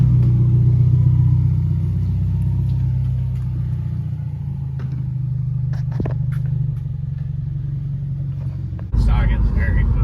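A Subaru WRX with a catback muffler delete and otherwise stock exhaust drives along, its loud, deep engine drone rumbling steadily from inside the car, with a sudden shift in tone near the end.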